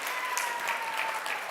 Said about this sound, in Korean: 우리 큰 박수 쳐주세요.